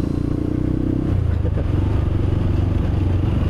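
A motorcycle on a busy road near Ciampea market in Indonesia gives a steady, loud, close engine rumble with some rattling clatter, holding without pause.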